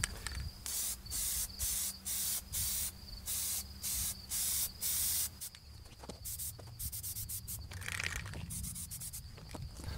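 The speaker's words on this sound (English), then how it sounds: "we'll try this aerosol plasti dip and see if we can get a little bit of rubber handle on these pliers" Aerosol Plasti Dip rubber coating sprayed onto plier handles in a series of loud, even hissing bursts with short gaps, followed by quieter handling and rustling sounds.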